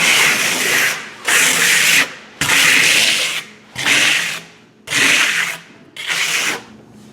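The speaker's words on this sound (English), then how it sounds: "after it's had a bit to set up, you can take your trowel over it and hit it again and push those chatter marks out" A trowel working over setting eco stucco on a wall, pushing out chatter marks: six loud, close, rasping strokes about a second each, separated by brief pauses, with no voices.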